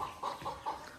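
Chicks in a village yard give a few quick, soft clucking calls in a short rhythmic series, close by.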